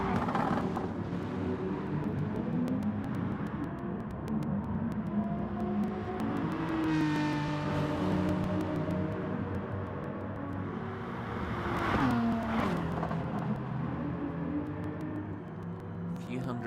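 An Aston Martin V12 Vantage race car in Gran Turismo Sport, racing at Fuji, drones under continuous commentary. Its engine climbs through rising revs, drops with each upshift and swells again at mid-strength, with other cars rumbling around it.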